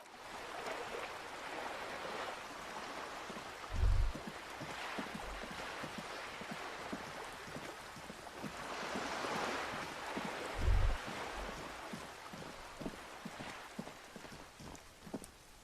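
Waves wash against a small islet in the video game Disco Elysium, a continuous broadband hiss of surf that swells and recedes in slow surges, with a couple of low thumps and no voices.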